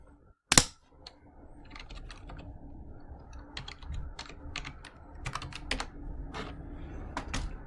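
Steady typing on a computer keyboard, close and clear, with irregular clusters of sharp key clicks following a single loud knock at the start.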